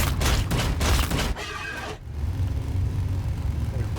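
Ork units in a Warhammer 40,000 strategy game fire at Tyranids, a dense rattling volley of shots that breaks off partway through, followed by a continuous rumbling engine-like drone.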